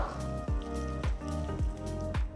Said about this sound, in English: So I'm just gently pressing it into the hot water.